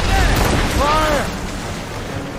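Ship cannons fire in Assassin's Creed Rogue during a naval battle, a couple of heavy booming blasts amid dense battle noise and shouting, then rumbling decay.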